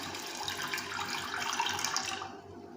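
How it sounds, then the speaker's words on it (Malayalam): Water poured into a pot to brew tea, a steady close stream that runs for about two seconds and then stops abruptly, leaving a quieter hum. "അതിനുവേണ്ടി നമുക്ക് വെള്ളം ഒഴിച്ചു കൊടുക്കാം"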